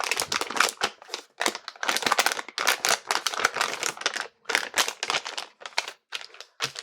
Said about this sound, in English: Let's open up the bag.